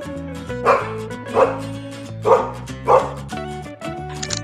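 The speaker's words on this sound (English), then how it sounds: "dog." A dog barks four times at an even pace, clear and close, with soft whimpering yips between the barks and no speech.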